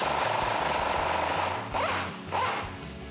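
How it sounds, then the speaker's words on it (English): A 21mm socket wrench loosens a suspension bolt on a 2012-2018 RAM 1500 pickup during a suspension lift install. Close, rapid ratcheting runs continuously, then breaks into two short bursts near the end. "Now we'll use our 21mm socket to loosen up the bolt from this side while we hold the nut with our wrench."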